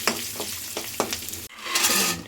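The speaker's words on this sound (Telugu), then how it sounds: "ఆయిల్లో జీలకర్ర, ఆవాలు, అండ్ ఎండుమిర్చి ఇది కొంచెం ఫ్రై అయిన తర్వాత పల్లీలు వేద్దాం" Cumin, mustard seeds and dried red chillies fry in hot oil, a close sizzle broken by several quick scraping stirs in the pan, then a brief cut into a louder, steadier hiss; no one speaks.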